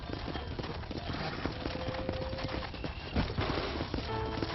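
Horse hooves clip-clopping in the video game Red Dead Redemption, a steady rhythmic trot on a ranch with faint background game sounds and occasional distant voices.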